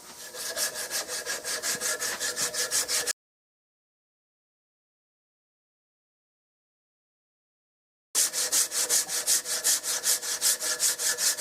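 Rhythmic back-and-forth abrasive strokes of hand sanding a wooden gun stock with strips of sanding belt, fast and even, in two bursts separated by a few seconds of silence.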